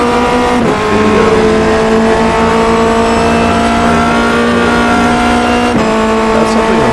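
A Formula Renault race car in iRacing runs through the Laguna Seca corkscrew while warming its tires. The engine holds a loud, close, steady whine with strong harmonic tones that dip briefly as it shifts.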